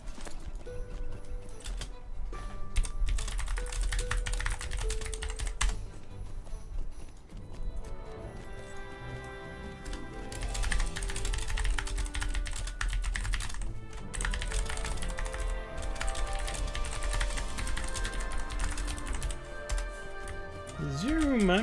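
Computer keyboard typing during a Lord of the Rings Online session, rapid clicking keystrokes mixed with game music and effects while a person talks over it.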